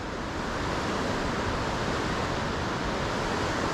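A creek spills over a series of falls and cascades, a steady, dense rush of water up close that stays loud and unbroken throughout, with no voices.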